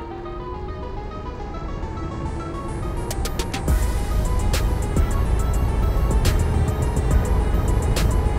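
A Kukirin G2 electric scooter pulls away at full throttle, its motor whine climbing steadily in pitch while wind rush and road noise build underneath.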